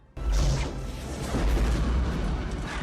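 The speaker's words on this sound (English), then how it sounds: "All those practical explosions." Heavy booming practical movie explosions with a continuous roaring rumble, loud and dense, filling the whole stretch without a break.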